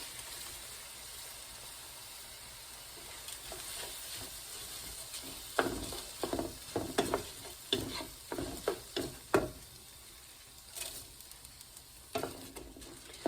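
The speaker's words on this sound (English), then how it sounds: "I'm gonna put the rice in." Washed rice goes into a large pan for pumpkin shrimp risotto, a soft pouring rustle followed by irregular stirring scrapes and a faint sizzle, fairly quiet and close.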